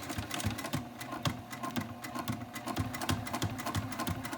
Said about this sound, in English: I'm gonna go really slow and actually sew over my pins